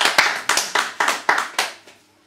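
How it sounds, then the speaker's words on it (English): Audience clapping in several short bursts, each sharp onset fading quickly, seven or so pulses over two seconds before dying away, fairly close and loud, no voices. "More applause, please, for Zolan Quobble."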